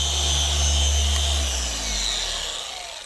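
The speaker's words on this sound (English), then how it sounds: "So I'm going to turn the polisher off, let the polisher spin down before I lift it completely off the paint." A car paint polisher on a painted panel spins down after switching off, its loud whirring drone fading and dropping in pitch over a few seconds, with no talk.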